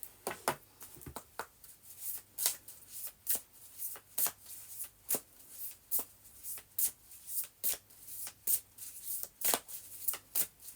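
Oracle cards are shuffled by hand in quick repeated riffles and slides, each burst crisp and close, forming a fairly regular rhythm in a quiet room without talking.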